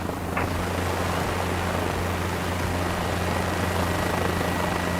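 A helicopter in Microsoft Flight Simulator 2024 hovers, its rotor drone and engine whine loud and constant throughout with a low throbbing hum beneath and no talking.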